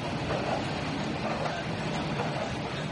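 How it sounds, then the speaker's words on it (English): A departing train in Burma gives a steady, broadband rumble and rattle that keeps an even loudness throughout, with no voices over it. "The train is now leaving."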